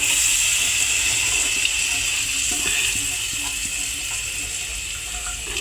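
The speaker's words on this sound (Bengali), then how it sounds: "এই যে ডালটা এখন আমরা দিয়ে দিচ্ছি।" Red lentils (masoor dal) tipped into hot spiced oil in a pan for dal bhuna, giving a steady loud sizzle and hiss that runs throughout, with faint clatter underneath.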